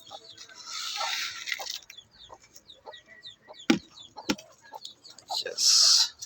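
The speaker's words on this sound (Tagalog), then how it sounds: "Pa-snack natin sa ating labuyo." Wild junglefowl cluck and call at snack feeding time, with short clucks and a louder crowing burst near the end, while someone talks over the birds outdoors.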